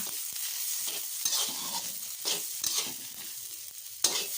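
Egg fried rice with ketchup and chili sauce being stir-fried in a pan, a steady close sizzle under repeated scraping strokes of a utensil, with a sharper clack near the end.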